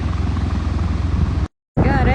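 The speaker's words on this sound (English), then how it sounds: "I'm gonna talk over the helicopter and figure it out later in editing. I can't even see it, to be honest. I can't even see it, but I hear it." A helicopter flies overhead at a beach, a steady low broadband rotor drone filling the first one and a half seconds before a brief dropout, then returning under a voice.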